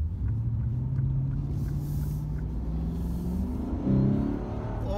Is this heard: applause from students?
no